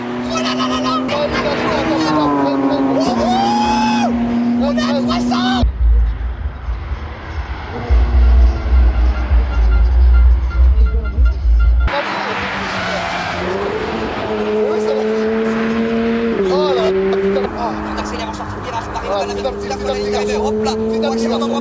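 A race car at the GP Explorer event accelerates hard into and out of a corner, its engine note rising and dropping in loud sweeping runs with tire noise and wind rumble, close and continuous, under excited talk.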